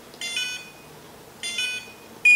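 Two electronic beeping bursts from a timer, each a rapid chirping tone lasting about half a second, then a third starting at the end.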